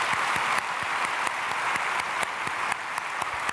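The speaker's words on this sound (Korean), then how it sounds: "오늘 사중창과 성가대도 대단히 잘 박수하겠습니다." Applause from a church congregation during a Sunday worship service, a steady dense clatter of many hands clapping, loud and continuous without a break, with no talk over it.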